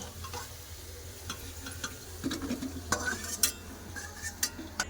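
Potatoes turning red-brown in a pan, seasoned with turmeric and salt, with soft frying sizzle and light clinks of a spatula or stirring spoon against the pan, steady low background hum throughout.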